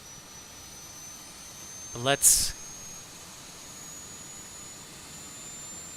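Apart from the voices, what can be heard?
airliner APU running in Microsoft Flight Simulator 2020 video game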